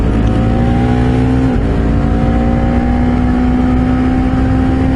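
A Honda CBR 250RR sport motorcycle with a quick shifter accelerates hard, its loud, high-revving engine whine rising steadily. One quick dip in pitch marks a seamless upshift, and the pull continues without interruption.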